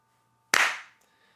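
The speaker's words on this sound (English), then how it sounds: "We got to do the clap" A single sharp hand clap from podcast hosts in a quiet room, loud and close, with a short ringing decay.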